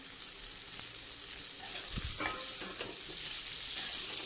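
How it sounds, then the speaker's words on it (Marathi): Boiled potatoes sautéed with onion, green chilli and ginger-garlic paste for a potato sandwich filling: soft, even sizzle under a few scraping stirs, fairly quiet and close, with no talking. "आता ह्याच्यात उकडलेले मी 3 बटाटे घेतलेले आहेत, ते परतून घ्यायचे आहेत."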